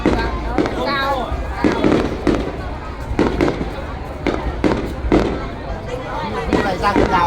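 Fireworks boom over the Đền Đô temple festival in 2025: a steady run of loud bursts and crackles at irregular intervals, with crowd voices murmuring underneath.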